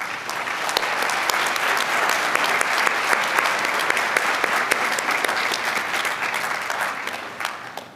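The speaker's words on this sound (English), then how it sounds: "So let's give them a round of applause" A crowd applauds steadily at the Blue Ridge Community College fall 2022 commencement ceremony, a dense, even wash of many hands clapping for about eight seconds and tapering slightly at the end.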